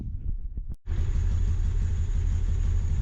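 Xpro Vader Honda Grom clone motorcycle engine idling after a carb tune, a close, steady low rumble that drops out for a moment, then resumes evenly with a slightly rough, uneven putter.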